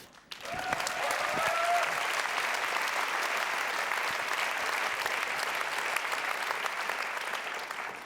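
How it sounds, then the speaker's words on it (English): A festival audience at the Reeperbahn Festival 2023 opening show bursts into sustained applause that holds steady for several seconds, dense clapping at moderate distance with no voices. "And now you can clap."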